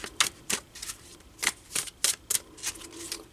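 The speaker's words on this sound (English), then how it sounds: "Let me give it a little shuffle, see what comes out." A tarot deck being shuffled by hand, giving a quick series of crisp papery riffles and snaps at an uneven rhythm, close and fairly quiet with no talking.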